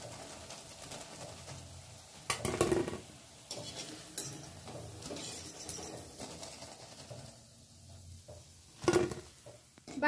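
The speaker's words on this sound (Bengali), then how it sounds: "বাকি বড়াগুলো আমি সেম ভাবে ভেজে নেব।" Drumstick flower fritters fry in a pan of oil, making a low continuous sizzle with a couple of loud utensil clatters and scrapes.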